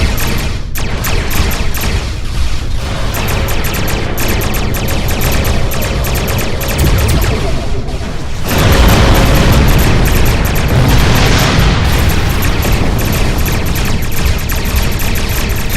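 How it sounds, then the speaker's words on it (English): Starship weapons volleys and explosions in the game Star Trek Online, a dense continuous barrage of booms and bursts that grows heavier and louder partway through, with no talking. "All stations, fire to disable!"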